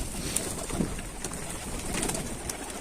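Soft pigeon coos on a rooftop over a steady outdoor background hum, a few brief calls spread across a few seconds.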